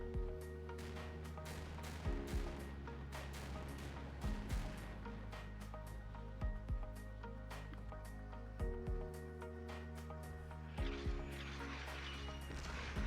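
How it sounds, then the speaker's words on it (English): A naval gun in the NavalBattleZone game fires high explosive shells, producing several sharp, spaced booms over a steady tonal hum, all fairly quiet. "Go ahead and fire."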